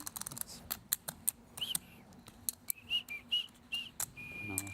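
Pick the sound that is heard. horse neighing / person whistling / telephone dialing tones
person whistling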